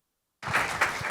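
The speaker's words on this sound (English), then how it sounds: "So let's please give a round of applause to Dr. Susan Elliott" An audience at a World Water Day afternoon panel session breaks into applause after a short silence, a steady wash of many hands clapping at moderate volume.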